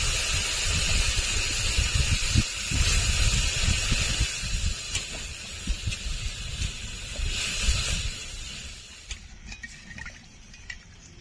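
Water poured into hot oil in a pan while cooking Bengali bhola fish tel jhal bursts into a loud hissing, steamy sizzle that gradually calms and thins out with scattered pops and spatters, without any voices.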